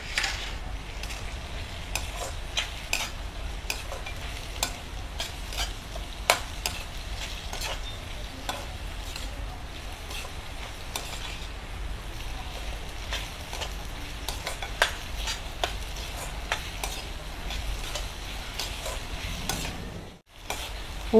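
Garlic fries in oil in a pan for a dried-fish fry, a steady close sizzle broken by frequent scrapes and clicks as it is stirred. The sizzle dips sharply near the end.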